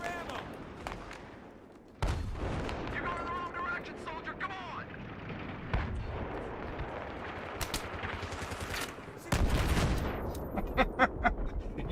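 C4 charge detonating in Battlefield 3 on PS3 during a chaotic Conquest match, with heavy booms and loud blasts amid scattered gunfire, while players talk over the battlefield din.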